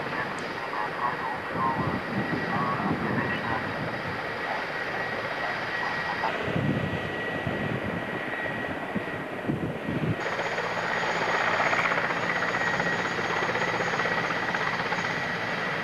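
Mi 8 helicopter at an air base open day, a steady turbine and rotor drone heard from a distance, moderately quiet, with shifts in pitch and background noise partway through.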